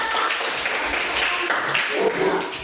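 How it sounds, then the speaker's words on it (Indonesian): Steady applause from a group fills the clip, a dense wash of clapping with no talking. "tepuk tangan semuanya"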